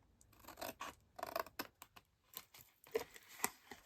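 Scissors snip small wedges off cardstock for an impossible box, a series of quiet, close, crisp cuts and light paper rustles spaced irregularly.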